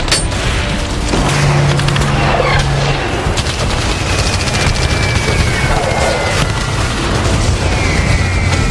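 Dense, continuous 1942 battle noise at Palembang: rapid machine-gun, small-arms and anti-aircraft fire bursts and heavy explosion booms layered together, loud and sustained throughout.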